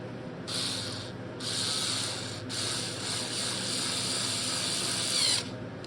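A metal bolt being driven into the plastic shock tower of a Traxxas Nitro Slash 2WD RC truck, with a high whirring power-driver sound in several bursts, close and fairly loud, stopping briefly between runs.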